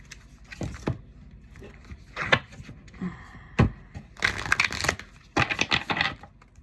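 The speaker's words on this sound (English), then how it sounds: "let me shuffle" Tarot cards shuffled by hand in a home setting, giving bursts of crisp riffling and papery slaps in several close, uneven clusters with brief pauses between.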